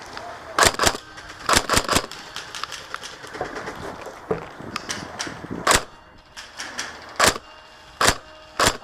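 Shots from a Tokyo Marui H&K 416c airsoft rifle during an outdoor skirmish game, heard as about eight sharp, separate cracks spread unevenly over several seconds, fairly close and loud, with faint ambient noise between them.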